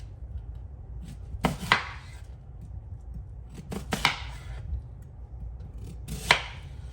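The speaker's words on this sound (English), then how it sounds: "And I'm just gonna cut it in slices." A knife cuts a chunk of watermelon into slices for butterfly and moth fruit bait, giving three separate crisp crunching cuts against a board, close and fairly quiet over a low background hum.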